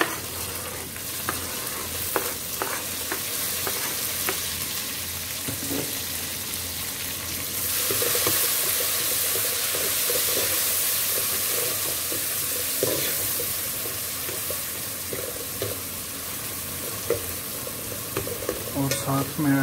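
Tomatoes and green chilies hit a hot frying pan for a chickpea gravy, giving a close, steady sizzle that swells louder partway through, with occasional stirring scrapes and no talk.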